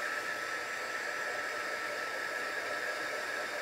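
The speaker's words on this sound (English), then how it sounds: "You don't necessarily have to use a dryer, but if I want to decorate on it tonight, we need to." A hair dryer blows steadily on a freshly painted rustic wooden birdhouse, a continuous even whooshing hiss held at one level throughout, fairly soft with no voices.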